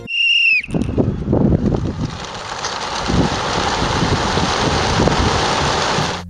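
A huge flock of starlings in murmuration beats its wings in a dense, rushing whoosh that rolls on steadily like wind, preceded by a brief shrill whistle at the very start.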